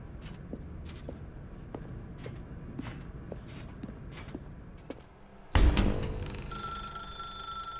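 In the video game The Stanley Parable, a telephone bell rings in a steady series of short repeated bursts for about five seconds. A loud thud follows and then a bright sustained tone.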